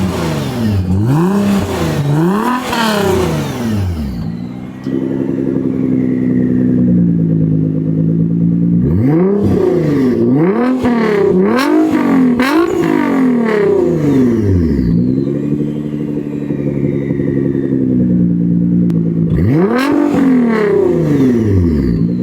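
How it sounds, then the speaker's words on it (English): Nissan GTR exhaust revving repeatedly, first muffled with the valves closed and then louder and rawer with them open, loud and close with sharp rising and falling revs and a steady idle between blips. "you guys probably heard the exhaust with the valves closed and then open"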